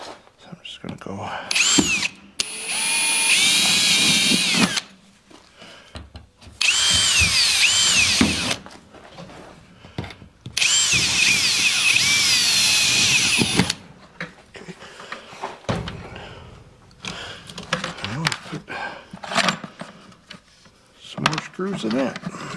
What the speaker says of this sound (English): So I bought a drill bit to pre-drill everything.